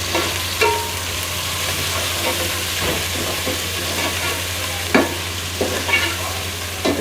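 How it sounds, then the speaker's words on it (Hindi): Garlic ginger paste sizzling in hot oil with golden-brown fried onions for beef yakhni pulao, a steady bright hiss with occasional spoon stirs and scrapes against the pot, close and alone with no talking. "तो मैं इस स्टेज पे इसमें डालूँगी लहसुन अदरक का पेस्ट।"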